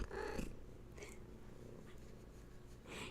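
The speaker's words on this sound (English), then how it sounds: "Now she's purring to you all." A domestic cat purrs steadily and close by, a low continuous rumble that runs through the whole stretch with brief soft bursts at the start and end.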